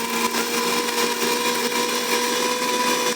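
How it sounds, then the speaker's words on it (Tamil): Mixer grinder jar blending mango pieces for honey mango juice, a loud steady high-pitched motor whir with constant churning, running alone without pause. "இப்போ நம்ம மிக்ஸி ஜாரில் மிக்ஸ் பண்ண போகிறோம்."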